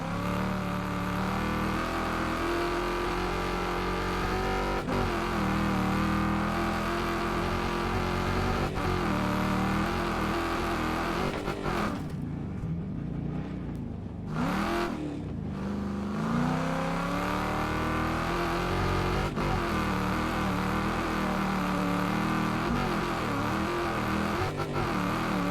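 Race car lapping a track in the Wreckfest 2 video game: a sustained engine drone rising and falling through gear changes and revs, with one brief lift-off near the middle, heard alone without talk.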